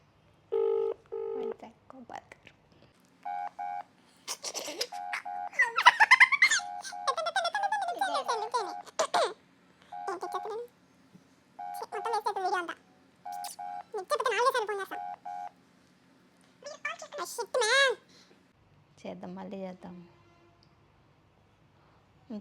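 An outgoing phone call rings through the handset: a stepped tonal ringback repeats in bursts with short silent gaps for about twenty seconds, ending with a low hum.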